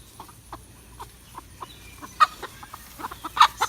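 Backyard chickens cluck in short soft bursts, a steady pecking rhythm of clucks with a couple of louder ones near the end, close by and without talk.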